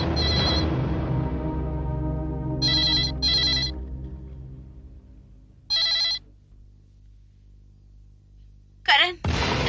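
A telephone rings during a phone call in a television drama, bursts of bright electronic ringing repeating several times with pauses, loud and close over a fading low tone and a brief final clatter.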